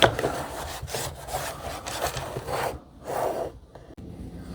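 Hand scrubbing on part of a Dreame L60 Ultra robot vacuum during cleaning and maintenance gives close, rhythmic rasping strokes, roughly one per second, with brief pauses between bursts.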